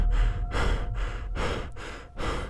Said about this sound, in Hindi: आती धीमी सांसों की आवाज रह गई।